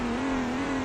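A Nissan 180SX drift car spins its tires at Sentul International Circuit, a steady high engine whine held at a constant pitch under a broad roar of tire noise, loud and continuous throughout.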